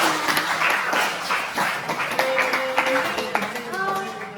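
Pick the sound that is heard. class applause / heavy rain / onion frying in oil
class applause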